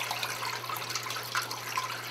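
Fresh water steadily pours and hisses into a portable washing machine's tub, a constant, even rush of running water with a low hum beneath it.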